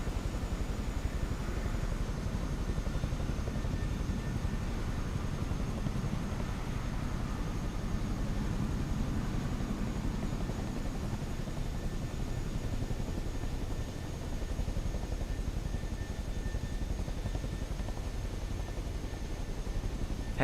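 Chinook helicopter flying in Microsoft Flight Simulator 2024, heard as a continuous, even rotor and turbine drone with a broad noisy hum that stays steady throughout.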